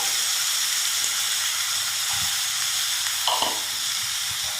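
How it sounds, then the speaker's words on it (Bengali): Vegetables sizzle steadily in hot oil in a wok, with a constant broadband hiss throughout and a few soft stirring clatters, close and fairly loud, with no talking. "কড়ায় তেল দিয়ে দিলাম এগুলো এবার ভাজতে বসিয়ে দিতে হবে"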